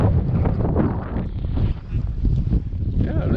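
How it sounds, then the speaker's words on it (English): Steady wind gusts buffet the microphone beside Artesia channel at Brantley Lake, a broad low rumble and rush that swells and dips throughout with no voices. "This is the windy Artesia channel, because it's almost all the time windy."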